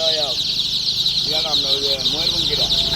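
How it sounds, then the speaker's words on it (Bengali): Several tiger-breed chickens cluck in short bursts close by, over a constant high-pitched hiss. "অনেকগুলো মুরগির নাম শুনলাম আমরা আর এখানে হচ্ছে টাইগার"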